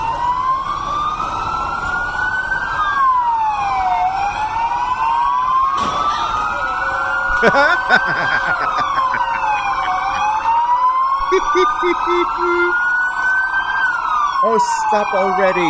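Sirens from a fleet of new police patrol cars and motorcycles on a city street in Puerto Vallarta wail loudly throughout, several overlapping rising-and-falling tones, with a brief spoken comment heard over them.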